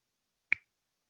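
A lone finger snap, sharp and near, clicks once in an otherwise silent space.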